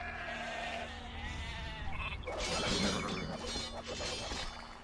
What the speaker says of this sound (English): I found more sheep.